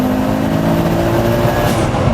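A 510 bhp five-cylinder turbocharged Audi S2 Cabriolet accelerates hard, its engine droning loudly and steadily from close by for a couple of seconds with no voices over it.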